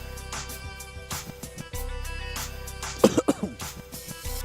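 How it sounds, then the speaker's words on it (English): A person coughs in a quick burst of several harsh, close coughs, with a short throat-clearing sound as well, during a casual live-stream reaction to a Jets versus 49ers Monday Night Football game, heard over low background noise. "I don't know where that cough came from."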